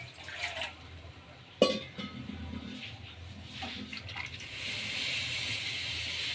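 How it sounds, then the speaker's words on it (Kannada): Water is poured into a bowl of gram flour for a potato snack batter, a soft trickling pour with a brief clink near the start, growing into a steadier, brighter stream toward the end. "ಇದಕ್ಕೂ ಒಂದು ಸ್ವಲ್ಪ ನೀರು ಸೇರಿಸ್ಕೊಳ್ಳೋಣ ಬೌಲ್ಗೆ."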